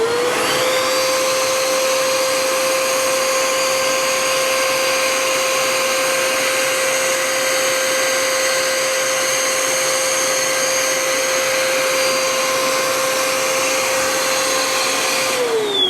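A Bissell PowerGlide Pet vacuum cleaner runs on dirty carpet with its brush roll off, giving a steady, loud whine that holds constant from start to finish, with no voices.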